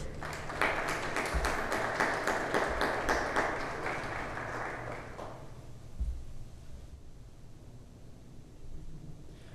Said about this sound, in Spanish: Queremos también recibir a Tercero con un fuerte aplauso